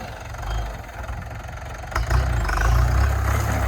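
A heavy diesel engine of an MF504 YTO farm tractor chugs nearby with a low, throbbing rumble that grows louder and rougher as it works under load, plowing stubble into a field.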